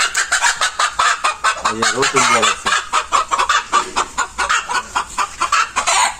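Desi hens cluck repeatedly and loudly in a coop at a home poultry setup, some close to the listener, with one drawn-out crowing-like call partway through and a brief spoken phrase among them.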